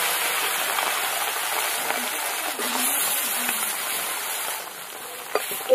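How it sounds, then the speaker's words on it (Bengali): Small fish fry together in hot oil in a pan, giving a steady, rain-like crackling hiss. The sound is close and even throughout, with a couple of brief knocks near the end. "ছোট মাছগুলো একসাথে সব ভেজে নেব।"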